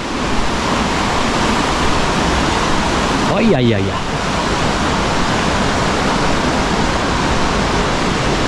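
Steady broadband roar of a waterfall near Ubud, Bali, rushing loud and continuous throughout, with someone briefly talking excitedly over the water.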